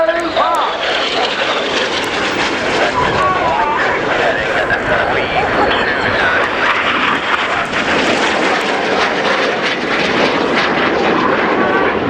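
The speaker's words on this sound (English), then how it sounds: "4 jets now descending to just 100 feet above the runway" Four Red Arrows jets at the RIAT air show at Fairford descend to about 100 feet over the runway, a loud, sustained roaring rush that fills the scene while a commentator talks over it.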